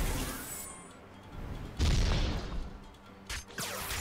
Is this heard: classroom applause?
no